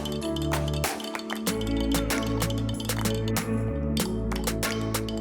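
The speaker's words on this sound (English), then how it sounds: "put the tea into the water and stir it" A spoon stirs hibiscus mint tea into water in a glass, giving a quick run of close, bright clinks and taps against the glass with faint liquid swirling between them.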